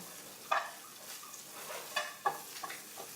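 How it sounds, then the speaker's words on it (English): Broccoli with trimmed garlic being stirred in a pan, giving a few faint, scattered scrapes and taps over a soft, low background sizzle. "And now we can just get this moving in the pan"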